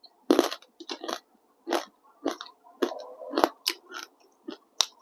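Crunchy Thai pork cracklings being bitten and chewed close up, a series of sharp crisp crunches in irregular bursts with short pauses, no talk.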